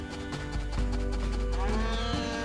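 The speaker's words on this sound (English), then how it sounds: "Silence, cows!" Cattle mooing in the Harvest Moon: A Wonderful Life farm video game: several drawn-out, tonal moos overlap continuously, loud and close, with no talking.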